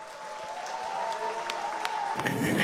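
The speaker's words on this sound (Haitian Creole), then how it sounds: "Vos applaudissements" Audience applause at a public event welcoming the Haitian president and first lady, steady clapping that swells toward the end, with a voice faintly present beneath it.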